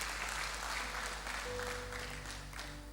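Applause for Jesus at a JCC Cijantung Ascension Day church service: a sustained, even sheet of clapping from a congregation, fairly quiet and distant, with sustained instrumental tones entering beneath midway.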